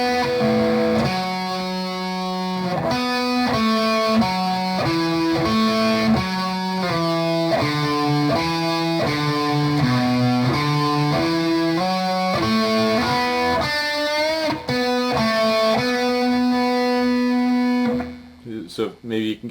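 Distorted electric guitar plays a riff slowly, stepping steadily back down in sustained, overdriven notes that run loud and continuous with no talking.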